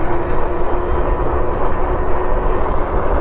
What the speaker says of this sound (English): my fender's making noise